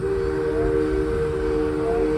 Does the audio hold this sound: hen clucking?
no